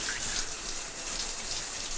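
Water sprays indoors from a washing machine pipe and falls like steady rain, making a dense, continuous hiss and patter at an even level.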